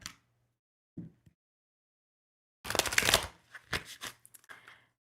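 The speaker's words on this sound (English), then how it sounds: "Okay, one more shuffle." Tarot cards are shuffled in a brisk riffling burst, followed by a few shorter shuffles and taps, with quiet pauses in between.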